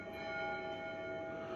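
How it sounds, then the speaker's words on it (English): Church bells ring at the Church of the Holy Sepulchre in Jerusalem, a faint, sustained metallic hum of overlapping tones heard from a distance, steady and quiet throughout. "Can you hear the bells now?"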